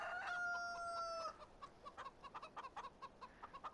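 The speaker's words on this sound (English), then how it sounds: "You do start out with chickens. Here's your chickens." Chickens in a pen in Farming Simulator 17: a long rooster crow opens, followed by a rapid run of short, fairly close clucks, with no talk over them.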